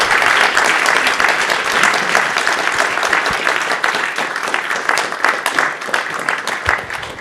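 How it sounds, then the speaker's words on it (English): A lecture audience gives a long round of applause, dense many-handed clapping that stays loud and slowly thins toward the end, with no talking. "we should all give Peter and Dr. Moroz a round of applause"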